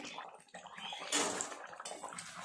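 Shol fish kalia gravy simmers and reduces in a pan, making soft, close bubbling and gentle watery sputters at a low level with no talking.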